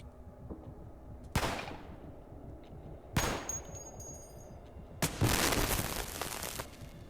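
Gunfire in the video game Cataclysm DDA: three sharp, separate shots spaced a couple of seconds apart, each with a brief decaying tail, loud over a quiet background with no talking.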